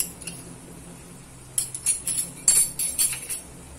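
A spoon clinks and scrapes against a bowl in short irregular bursts as paneer is stirred with soy sauce, vinegar and green chilli sauce, after a quiet opening.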